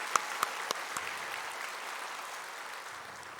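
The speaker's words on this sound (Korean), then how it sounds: "박수 한번 하겠습니다" A few loud claps open a soft, steady applause from a church congregation honouring the choir at an anniversary service, the clapping continuing at an even, moderate level.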